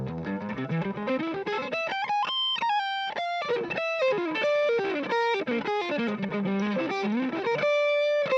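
An electric guitar through the drive section of an overdrive pedal plays a melodic phrase of sustained, gritty notes and bends, with a warm, moderately distorted tone throughout.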